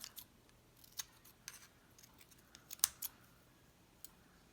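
Scissors snip cloth on a pebble in a quiet room, a series of soft, close, irregular cuts with a few sharper clicks between them, nothing else heard.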